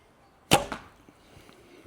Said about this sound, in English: This one is loud with these arrows.